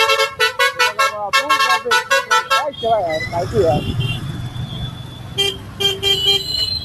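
Stuck cars in a nightly traffic jam on the Mumbai–Nashik highway blare their horns in a fast, dense run of repeated honks, then go quiet before a few more short toots over engine rumble, with someone talking nearby.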